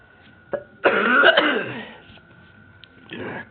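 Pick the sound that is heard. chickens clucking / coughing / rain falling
coughing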